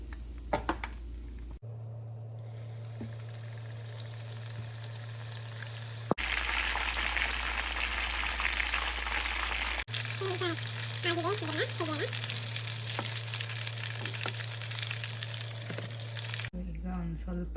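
A batch of chicken wings kebab deep-fries in hot oil, giving a continuous bubbling sizzle across several cut segments. A low hum sits underneath and a voice is briefly heard partway through.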